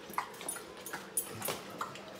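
Dog whimpering in a garage during a Range Rover Sport air suspension repair, a few short high whines spaced across the moment, close by and fairly quiet.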